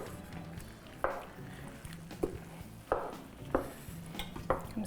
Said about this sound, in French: Je vais mélanger pour que toute la viande puis toute la sauce soit mélangée avec le riz.